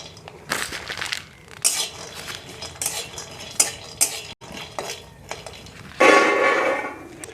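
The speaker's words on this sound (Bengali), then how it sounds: "এবারে কয়েকটা বাদাম ভেজে নিচ্ছি" Peanuts being fried in a pan at a home kitchen stove, with metal utensil clinks, scraping and stirring, plus a louder burst of sizzling near the end, close by and without talk.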